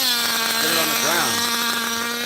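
A 27-year-old vintage nitro RC car engine runs at a loud, steady buzzing whine, its pitch swooping up and down as it leans out, with voices talking faintly over it.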